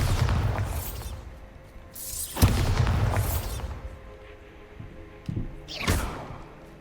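Bombarda blasting spells explode in Hogwarts Legacy, several deep booming blasts with crumbling debris, one strong hit then quieter follow-up bursts, loud and close with no talk.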